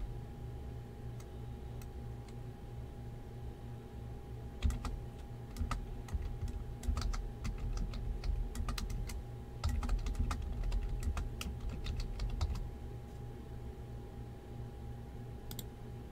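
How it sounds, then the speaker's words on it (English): Soft, rapid typing on a computer keyboard, steady clusters of light key clicks running throughout, fairly faint over a low background hum. "I need to type it down."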